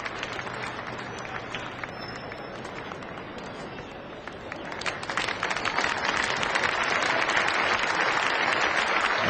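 Spectators at a 1990 Australia versus Pakistan Test cricket match applaud a century with broad, rolling clapping that builds in strength and fills the ground, with faint commentary beneath.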